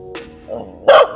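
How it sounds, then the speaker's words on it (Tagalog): Dog barking at visitors: a short yip, a low growling grumble, then one loud, close bark, with faint background sound and no clear talk. "Binabatok na tayo ng aso dito."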